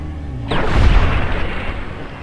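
Multiplasma rifle shot in Fallout: New Vegas, a single loud, heavy blast that bursts in suddenly and rolls out into a long, dense rumbling decay with no talking.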